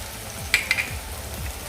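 Koli masala, turmeric and Kashmiri red chilli stirred into bombil frying in a pan, giving a low steady sizzle with a few soft scraping clinks of the spoon against the pan.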